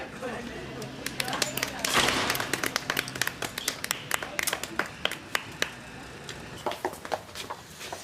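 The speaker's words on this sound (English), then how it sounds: "Think I deserve a round of applause for that" Scattered hand claps ring out as a small group gives a round of applause in a Coronation Street scene, with uneven individual claps and some background voices, growing sparser toward the end.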